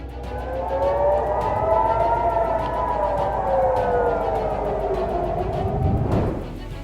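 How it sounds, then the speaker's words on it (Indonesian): Air raid warning sirens wail over an Israeli city during a missile attack. There are several overlapping loud, slowly rising and falling tones, with a sharp thump near the end. "Sirine peringatan pun terus berbunyi yang membuat orang-orang di sana berlari ke tempat aman."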